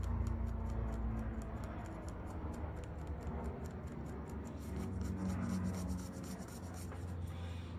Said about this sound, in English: slide along the edge and you're gonna use friction to remove that glue, just like that